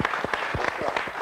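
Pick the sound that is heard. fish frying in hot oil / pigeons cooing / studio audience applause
studio audience applause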